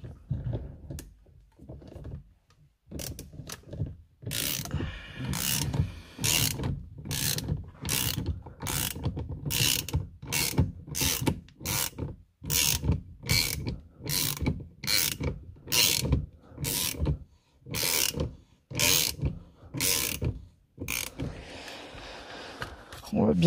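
A ratchet wrench tightens the steering wheel bolt of an Audi A4 B8 in a long run of rapid clicking strokes, close and loud, with short pauses between pulls and someone talking briefly.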